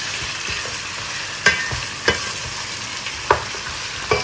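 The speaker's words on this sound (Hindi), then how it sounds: "चिकन को अच्छे से भून लेंगे।" Chicken frying in a pan makes a constant close sizzle, broken by four distinct spoon scrapes against the pan at irregular intervals, with no voices.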